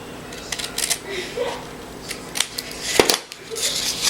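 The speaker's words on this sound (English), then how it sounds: "I like to do just half an inch right here, a mark, and I just cut from here" Scissors snipping through paper for mini album pages, a series of short crisp cuts and rustles at close range, heard under a voice talking.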